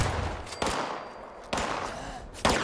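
Gunfire in the video game Fallout 76, three heavy booming shots spaced about a second apart, loud and close, each followed by a long rumbling tail.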